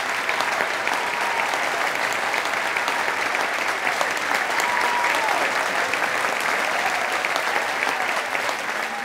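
An audience at a film screening gives sustained, thunderous applause, dense clapping holding steady for several seconds, with a few scattered voices faintly audible within it.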